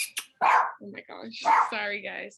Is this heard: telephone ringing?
no